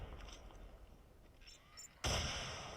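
A bomb detonates in Call of Duty Mobile battle royale, a sudden loud broadband blast near the end that cuts in sharply and rings on, following quieter game ambience.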